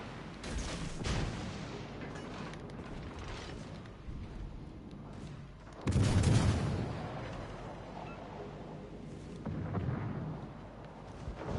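Ship guns firing in the naval game World of Warships Legends: a heavy, rumbling boom lands midway, wrapped in steady mechanical battle noise and distant explosions, with no talk.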